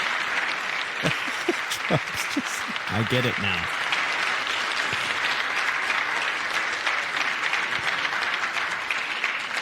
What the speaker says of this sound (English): Democrats start clapping for that